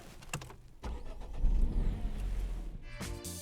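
A Citroen C3 with a 110-horsepower 1.2-litre three-cylinder petrol engine cranks briefly and catches, then settles into a steady low running note before a short mechanical whir. The engine is close and at moderate volume, with no talk.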